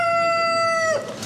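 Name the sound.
chabo rooster crowing at poultry show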